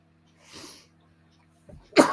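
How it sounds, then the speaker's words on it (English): Two short, harsh bursts from a nearby person, a softer one followed by a louder, sharper one about a second later, over a faint steady hum. "I can't stop coughing tonight."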